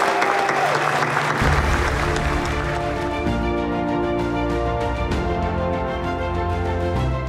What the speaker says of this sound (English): Let's give yourself a big round of applause.